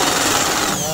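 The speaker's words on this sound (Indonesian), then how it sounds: "Ini kita bor dulu agar lebih mudah untuk kita pelepasannya." A power drill bores out spot welds on the radiator support of a Toyota Avanza, a loud, continuous grinding whine close by, with someone speaking over it.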